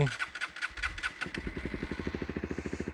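A cold Junak SC125S motorcycle engine catches after a few rough cranking bursts and settles into a close, even idle, a steady rapid thumping pulse that continues to the end.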